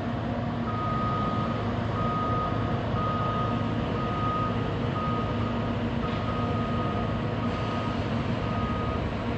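A construction truck working at night in Manhattan, moving concrete, gives off a steady high reversing beep that repeats in even pulses over a constant low diesel rumble, fairly close and with no talking.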